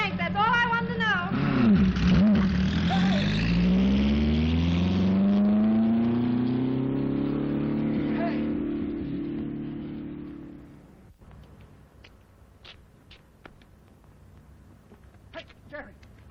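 A car engine revs hard and climbs in pitch as the vehicle accelerates away, fading into the distance over about ten seconds, followed by faint knocks and clicks in a quiet room.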